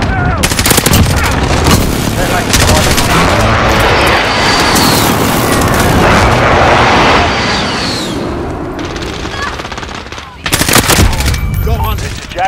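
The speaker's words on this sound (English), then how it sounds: "Be advised, friendly precision airstrike is there." Precision airstrike in Call of Duty Modern Warfare: loud, dense roar of jet engines and rolling blasts with gunfire, sustained then dipping briefly before heavy bursts return, with radio chatter mixed in.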